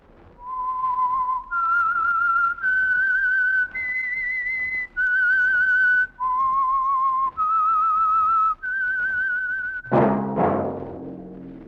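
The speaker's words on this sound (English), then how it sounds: "That whistle is your signal for the Signal Oil program, The Whistler." Whistled theme signal of The Whistler radio program: a clear, solo melody of sustained, slightly wavering notes rising and falling, ending with a ringing orchestral chord.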